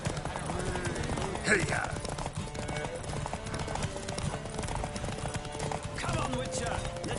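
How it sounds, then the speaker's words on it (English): Horses gallop in a race in The Witcher 3, with rapid, dense hoofbeats and a brief whinny. A rider shouts over the pounding hooves. "Riders, ready! Don't spare the horse!"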